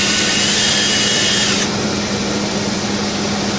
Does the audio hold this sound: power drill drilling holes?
yes